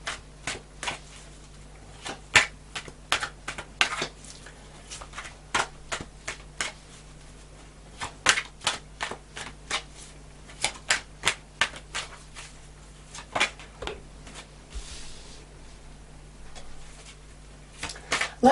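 Tarot cards being shuffled by hand, a run of crisp, close riffling snaps and taps repeating irregularly, alone with no talk.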